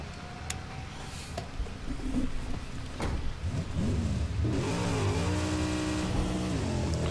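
A car in the Mad Max video game drives along with a steady engine hum, then revs up in rising and falling surges during the second half, moderately loud and with no talk over it.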